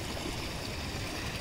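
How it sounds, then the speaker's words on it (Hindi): A mountain spring stream flows by a village on the Johar trek, a steady rushing close by that fills the whole moment with no talking. "ये रहा यहाँ का धारा"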